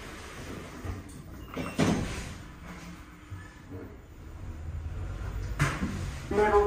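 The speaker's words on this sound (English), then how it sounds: "Doors closing." Car park lift doors in a Solihull town centre lift sliding shut, a couple of soft thuds and rumbles under quiet background noise.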